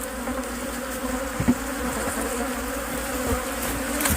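A dense, steady buzzing of many angry bees fills the clip, continuous and moderately loud, with a brief louder flick near the middle.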